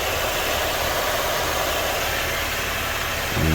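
A GMC car engine runs after an exhaust flex pipe repair, giving a steady, loud, unbroken idle rumble with a bit of rattle, heard close with no talk.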